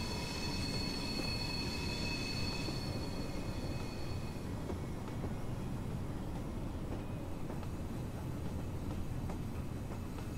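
A BR Class 76 electric locomotive hauling HAA coal wagons brakes on the Woodhead line in Train Simulator 2021. A continuous rolling rumble carries high, thin wheel squeals that ring for the first few seconds before fading.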